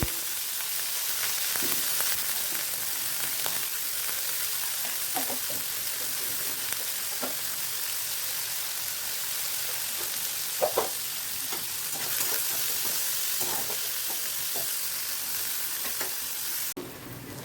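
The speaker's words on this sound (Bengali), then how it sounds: "উচ্ছে আমার ভাজা হয়ে গেছে লাল লাল করে ভেজে নিয়েছি" Bitter gourd fried with salt and turmeric produces a dense, even sizzle in the pan, with intermittent stirring scrapes and crackles, close and unbroken, with no speech.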